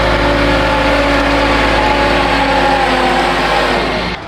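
A BMW M4 Competition pulls away, its engine a loud steady drone with a strong low rumble that holds close and even before easing slightly at the end.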